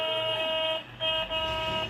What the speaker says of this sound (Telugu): middle horn